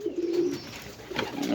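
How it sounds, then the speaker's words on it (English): A pigeon coos in low, rolling phrases from a nest tucked inside a locker, two soft bursts close by with a short pause between them. "Not many people have ever seen a baby pigeon."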